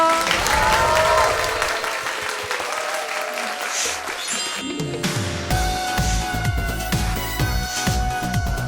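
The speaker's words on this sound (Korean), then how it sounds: "박수 부탁드려요" Audience applause at a televised Korean lecture event, a broad wash of clapping with music and speech-like sounds mixed in, loud and sustained throughout.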